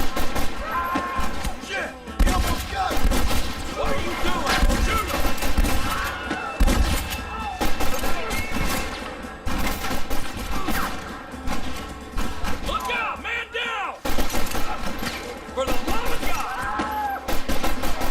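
Dense, steady gunfire and thudding impacts fill a Red Dead Redemption shootout, overlapping with game music and effects and staying loud and continuous throughout.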